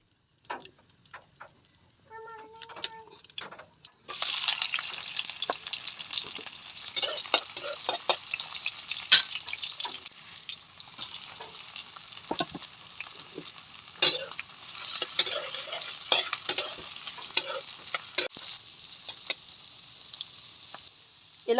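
Onion, garlic and sliced patola (sponge gourd) sautéing in a pan: a few faint taps at first, then a loud hissing sizzle bursts in and continues with repeated scraping stirs close up.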